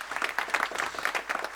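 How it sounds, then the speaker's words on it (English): Applause from the audience at a campus quiz final, a short burst of brisk, close clapping from a modest crowd with an uneven, lively rhythm. "can we have a round of applause for young Rashmi?"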